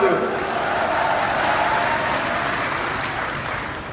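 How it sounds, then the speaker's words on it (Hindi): An audience at an Arvind Kejriwal and Bhagwant Mann political rally in Jalalabad claps in a dense, steady wash of applause that carries evenly throughout and tapers slightly at the close. "जाके ताली मार के साड़ी टीम का हौसला बढ़ा दो"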